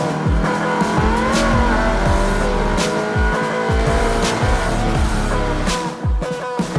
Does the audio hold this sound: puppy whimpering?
no